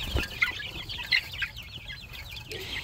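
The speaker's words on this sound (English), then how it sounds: "And now I'm just calling the chicks." Chickens clucking and chirping at feeding time in a backyard flock, a busy chorus of short calls close by with no talking.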